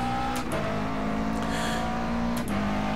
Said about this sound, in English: Love the sound on the downshift in the McLaren.